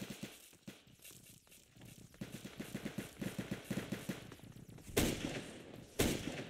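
Rapid repeating fire from a pay-to-win laser gun in a video game, a fast rattling stream of shots, then two louder separate blasts near the end, with no talk over it.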